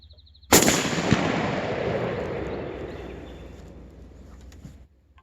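A single loud, close Winchester rifle shot cracks out, then a long echoing rumble rolls away and fades over several seconds in an open outdoor setting.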